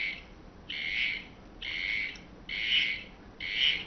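A small siren driven by a hand-turned dynamo in a physics demonstration gives four shrill, evenly spaced bursts, each about half a second long, separated by quieter gaps.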